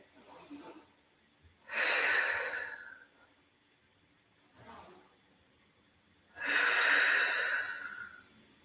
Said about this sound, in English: Let's take three more breaths here.